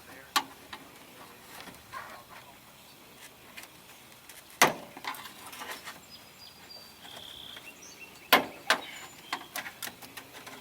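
A screwdriver pries plastic trim clips off the door panel of a 1997 Geo Tracker, giving a few sharp close pops and clicks spaced apart, with quieter scraping and handling noise between them.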